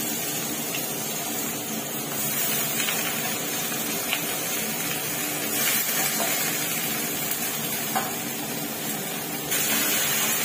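Potatoes frying in oil with black cumin seeds, a continuous loud hiss and sizzle holding steady throughout, with no talking.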